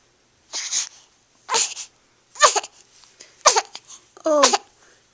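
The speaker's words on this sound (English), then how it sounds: "Oh, there are sneezes." A baby sneezes five times in a row at roughly one-second intervals, each sneeze close and clear with small breathy vocal sounds between.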